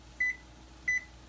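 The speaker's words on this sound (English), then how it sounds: "I'm going to put my timer on for 3 minutes" A kitchen timer being set for three minutes in a home kitchen gives two short, clear electronic beeps about half a second apart over a quiet background hum.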